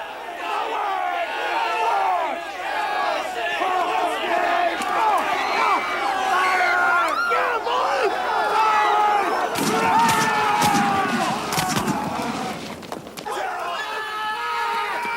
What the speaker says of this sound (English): A crowd gathered. The troops were jeered and pelted with rocks.